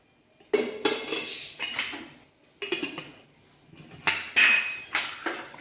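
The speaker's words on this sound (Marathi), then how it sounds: "आपण कढई ठेवलेली आहे गॅस" A kadhai handled on a gas stove, sharp metallic clanks and scrapes in short separate bursts with quiet gaps between, close by and alone.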